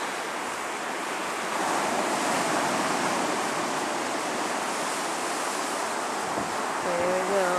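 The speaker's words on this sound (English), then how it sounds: "Oh, there's waves coming." Ocean waves break on a cold, windy shore in a steady, broad roar, with gusts of wind buffeting the microphone and a faint tonal whine near the end.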